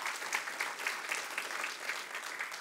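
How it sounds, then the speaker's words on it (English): A church congregation claps together in steady, moderately loud applause that stays even throughout, with rhythmic peaks and no voices on top. "So let's applaud, man. Let's give a clap."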